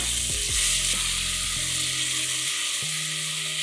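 Loud, steady sizzling of spices frying in hot oil, with crackling spits and a few scraping stirs, close up and without talk.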